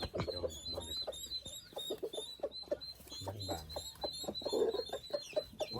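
A crowd of chickens at a farm in Fresno, California, clucking continuously and close by, with overlapping calls and a steady high background chatter of birds.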